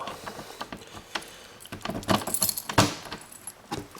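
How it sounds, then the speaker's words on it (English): A single key jangling on its ring and turning in the lock of a small storage compartment door on a tent trailer, close and crisp, with clinks and a sharp metallic snap near the middle. "Open this up real quick. It's one key that opens everything on this trailer."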